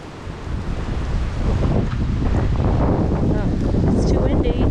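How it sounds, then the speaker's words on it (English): Strong wind buffets the microphone at a canyon campground in Chiricahua National Monument, Arizona, a loud continuous low roar with gusty surges that builds and holds steady throughout. "Oh, it's too windy."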